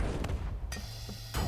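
Cannon fire in the Battleboats.io naval combat game, with booming blasts and broadband bursts over a steady engine-like drone and game noise, two sharp hits standing out near the middle and end.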